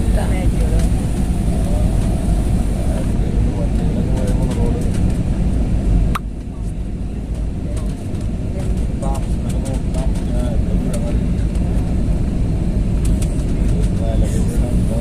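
Steady low engine roar of an airplane cabin during landing descent fills the background, with a brief dip in the middle, while people talk over it.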